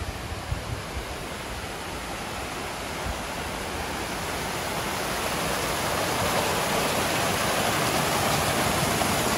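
Small fountain waterfall in a city centre, a continuous broad rushing splash of flowing water that stays steady and close throughout, alone with no voices.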